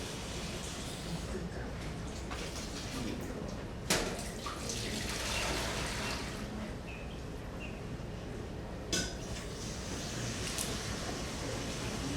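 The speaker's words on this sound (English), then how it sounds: "So I'm going to take another couple liters of water." Water runs steadily from a tap, a continuous close splashing rush filling a container with a couple of liters for a cure, with two faint knocks partway through.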